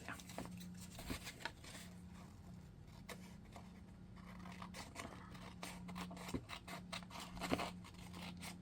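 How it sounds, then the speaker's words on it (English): Scissors snip through paper or envelope material while making a tag for an envelope journal, giving a string of quiet, irregular cutting clicks and scrapes close by over a low background hum. "And we use a scissors over here."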